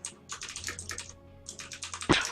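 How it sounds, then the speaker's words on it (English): Rapid clattering keystrokes on a computer keyboard come in quick bursts with brief pauses, close and fairly clear, ending with a louder thump, no talking over it. "stop typing"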